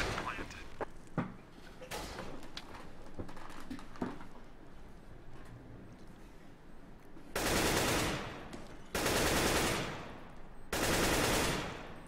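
Gunfire from a tactical bomb-defusal shooter game: three long, loud sustained bursts of automatic fire near the end, after a stretch of quieter scattered shots and movement noise.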